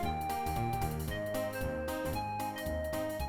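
Music from the DOS adventure game The Colonel's Bequest: A Laura Bow Mystery, played through a Roland MT-32 synthesizer, with a bright, bouncy melody over steady bass notes, quiet and continuous with no speech.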